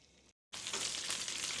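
Chicken sizzles steadily in a hot pan, a dense, loud frying hiss that drops out briefly, then returns and holds at full strength.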